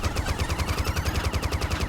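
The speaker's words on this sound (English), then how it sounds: "I'm keen to check out this volcano weapon that comes with the ship and with the pilot." A volcano heat weapon firing in the Starlink space combat game, a rapid, evenly pulsing burst of repeated blasts with a heavy low thump under each shot, continuous and loud without speech.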